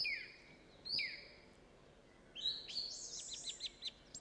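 A lone thrush sings in a forest, two short fluting notes followed by a longer phrase of rapid, ringing trills, distinct and close against near silence.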